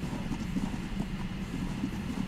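Horse hooves clip-clop in a Viking roleplay video game, a continuous, moderately quiet patter of steps at a walking pace, steady and close, with no talk over it.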